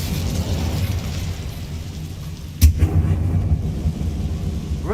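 An Incendio fire spell cast in Hogwarts Legacy bursts out as one sharp, loud fiery whoosh about halfway through, trailing into a rumbling roar above a steady, low game ambience.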